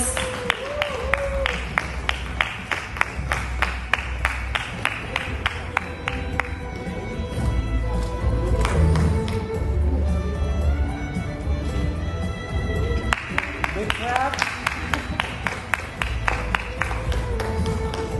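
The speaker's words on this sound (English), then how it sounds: "Can we have a louder round of applause?" Audience at an education awards ceremony in Dubai applauding steadily for the full stretch, sharp claps sitting under a continuous crowd roar with scattered voices mixed in.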